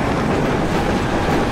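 Train rumble with clickety-clack wheel noise in the Battlefield 3 video game, a steady, loud, continuous rolling sound heard alone.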